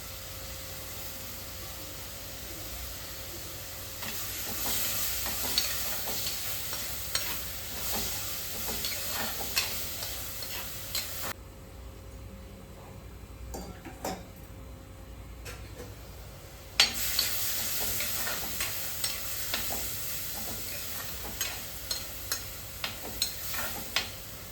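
Washed prawns tossed into a hot frying pan and stirred, giving a steady sizzle with scattered scraping and tapping stirring clicks, close and alone.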